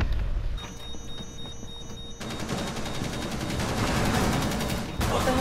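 Sustained rapid automatic gunfire in a shooting video game, loud and dense, following a quieter stretch, with a brief break near the end before the firing resumes.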